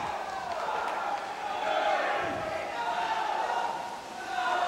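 Swimming teams cheer from their benches at a 1996 high school boys' meet, a steady wash of crowd shouting and yelling echoing around an indoor pool, rising and falling without pause.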